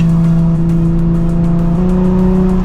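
A Nissan 350Z aftermarket exhaust drones loudly and steadily from inside the cabin in fourth gear around 3,500 RPM, a constant low hum that shifts slightly in pitch partway through.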